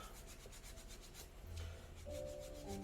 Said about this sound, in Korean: 때가 끼면 이렇게 물티슈 가지고 닦아주면 또 깨끗해집니다.